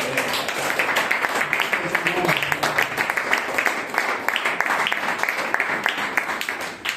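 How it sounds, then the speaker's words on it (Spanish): Sustained applause from a Spanish-speaking church congregation during a sermon, many hands clapping in a thick, continuous rattle that holds steady for several seconds with a faint voice beneath. "Podemos darle un aplauso, Señor, hermano"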